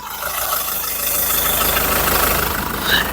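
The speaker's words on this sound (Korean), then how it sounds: "중요한 엔진 사운드 바로 들려드릴게요" A steady pickup truck engine, a SsangYong Rexton Sports with about 30,000 km, idles close by with the hood open, a continuous rumbling drone with even mechanical knocking and a brief rise near the end.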